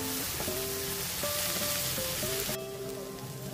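Turmeric and sambar powder stirred in a hot pan, with a steady close sizzle of frying and occasional scraping from the stirring spoon.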